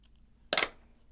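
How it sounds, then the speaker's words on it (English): Scissors snipping rust-dyed fabric cording: one short, quiet snip close by against a near-silent background. "I'm going to go back now and just trim off those extra pieces that were on there"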